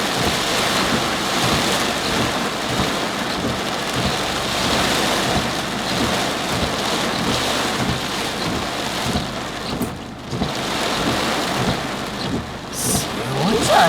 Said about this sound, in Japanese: すごいじゃないこの雨。